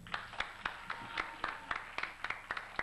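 An audience at a religious song contest claps in a quiet, steady rhythm, about a dozen distinct claps at an even pace, heard from a distance with no other sound over them.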